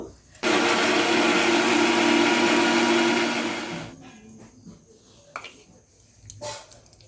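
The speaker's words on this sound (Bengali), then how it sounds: "ব্লেন্ড করা হয়ে গেল" An electric blender whirs loudly and steadily for about three and a half seconds while blending a masala for a sea cuckoo fish curry, then winds down and stops, followed by faint kitchen clatter and brief voices.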